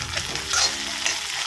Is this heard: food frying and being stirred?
yes